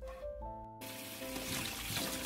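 Cabbage quarters washed under a running tap, a soft steady trickle and splash of flowing water close by, with faint tonal hum over the first second and the water growing slightly fuller toward the end.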